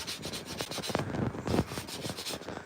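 Sandpaper rubs a hand-carved wooden spoon in quick back-and-forth strokes, a close, rhythmic scratchy rasp with no voices.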